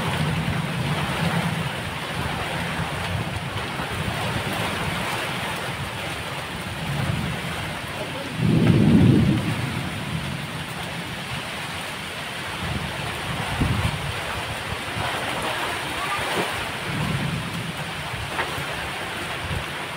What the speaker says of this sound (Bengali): এই যে দেখো বৃষ্টি শুরু হয়ে গেছে, এই যে বৃষ্টি পড়ছে